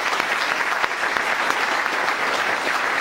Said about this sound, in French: Donc un applaudissement pour eux,